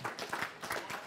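Congregation applauding during a church service, a short burst of dense, steady clapping filling the room at moderate level.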